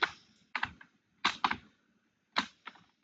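Keys tapping on a computer keyboard in short clustered bursts, a few quick clicks at a time separated by brief pauses, close and fairly quiet with no voices.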